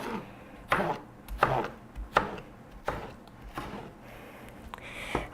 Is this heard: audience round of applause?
no